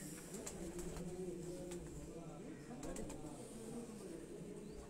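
Breeder pigeons cooing in a low, continuous rumble close by, with sharp clicks and shuffles over it, while someone talks throughout.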